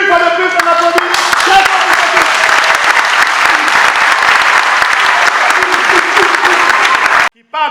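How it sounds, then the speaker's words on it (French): Guests at a town-hall civil wedding applaud the couple, loud dense clapping that holds steady for several seconds with a voice at the start, then cuts off abruptly. "une fois de plus, on applaudit."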